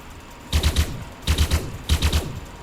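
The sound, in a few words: pistol firing in Elite Dangerous video game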